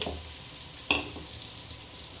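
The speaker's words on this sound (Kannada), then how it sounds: "ಈಗ ಈರುಳ್ಳಿ ಫ್ರೈ ಆಗಿದೆ" Onions frying in a pan make a continuous close sizzle, and near the start a single sharp scrape or clink rises above it.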